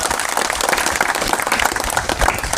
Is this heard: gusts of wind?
no